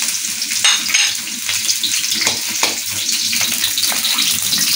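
Cooking oil sizzling and crackling in a frying pan, a steady close hiss with small spattering pops throughout.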